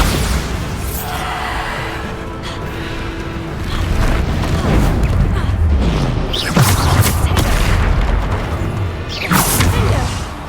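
Explosive Bombarda spell blasts in the Hogwarts Legacy video game land as heavy booming impacts with whooshes and crashing debris during a busy spell fight, several bursts over a continuous loud rumble.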